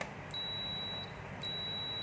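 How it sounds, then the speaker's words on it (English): Two steady high-pitched electronic beeps from a multimeter's continuity buzzer, each lasting about a second, with a short gap between them. "So here there is a buzzer."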